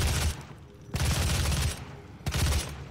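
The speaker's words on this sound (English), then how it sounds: "Who's shooting at me?" Gunfire in a SnapMap video game level comes in three dense bursts of rapid shots separated by brief lulls, loud and close.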